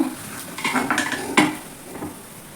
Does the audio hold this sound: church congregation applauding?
no